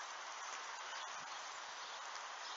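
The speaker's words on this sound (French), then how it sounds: "Vous devez l'entendre sur le micro. Ça souffle fort." Strong gust of wind blowing through a willow tree in Tour-en-Sologne in January, a steady broad rushing hiss of rustling foliage, even and unbroken, with no talk.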